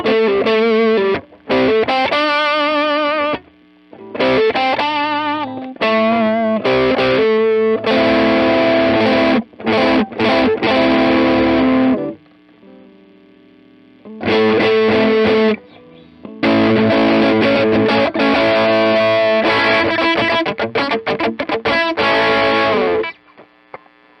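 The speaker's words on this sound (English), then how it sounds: "this is a drive on drive pedal" Electric guitar through a Fender Blues Jr. amp with a dual drive-on-drive pedal, heavily distorted riffs and chords played in bursts with brief gaps, close and loud, with a faint hum between phrases.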